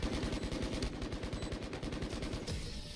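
Rapid, sustained gunfire from a Valorant match, dense repeated shots firing in a continuous rhythm, loud and close, with no talking over it.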